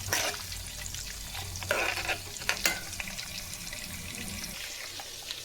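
Green chillies sizzle steadily in hot oil alongside seeds, a continuous crackling fry with a few sharper stirring clatters and scrapes, close and moderately loud throughout with no voices.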